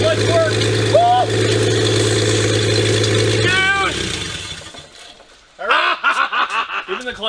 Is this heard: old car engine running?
yes